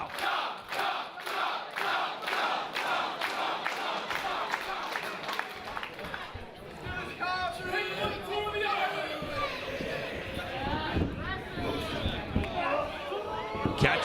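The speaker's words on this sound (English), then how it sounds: "And listen to this crowd." A wrestling crowd at an EVOLVE event roars and cheers loudly and continuously, rising into a dense wash of shouting under a commentator's voice.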